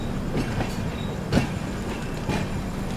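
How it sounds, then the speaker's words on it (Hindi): A Suhaildev Superfast Express pulls into Prayagraj Junction railway station, with a steady rumbling roll of carriages and faint rhythmic wheel clatter and a few brief louder bumps, heard from on board. "ट्रेन अपनी पहुंच रही है प्रयागराज जंक्शन रेलवे"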